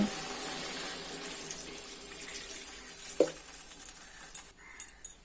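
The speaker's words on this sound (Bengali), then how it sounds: "এখন আমি জল দিয়ে দিব।" Water is poured into a pan of simmering snakehead fish curry, a steady hiss and trickle over frying sizzle, with a brief clatter of utensils midway and softer bubbling at the end.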